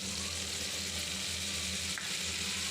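Radhuni spice and ginger paste hit hot oil for shukto, a steady close crackling sizzle that holds evenly throughout with no voices.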